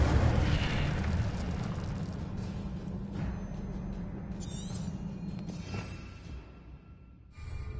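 Incendio fire spell cast in Hogwarts Legacy, a loud burst of whooshing flame at the start that fades into a crackling, rumbling burn, with bright magical chimes and sparkles flickering over the tail.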